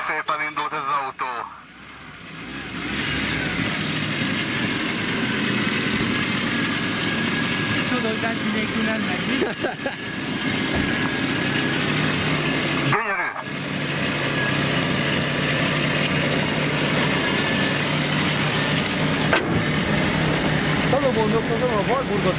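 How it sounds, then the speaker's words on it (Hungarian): A retro car at a Balaton retro museum, apparently an old Wartburg, cranks and starts, then settles into a loud, steady rough idle that runs throughout, close by, with people talking over it. "Ó, de gyönyörű szépen indult ez az autó."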